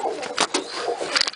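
Pigeons coo in a breeding loft, a brief soft cooing phrase heard up close with faint background noise.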